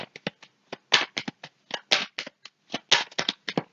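Cards shuffled for a tarot-style reading: a rapid series of crisp riffling snaps and soft slaps, close and clear, with no voices.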